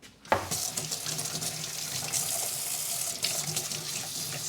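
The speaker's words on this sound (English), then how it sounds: "Sorry, I know you just hear sink." A kitchen sink tap runs steadily, a close, continuous hiss of water splashing into the basin, with a brief surge as the flow starts and another shift near the end.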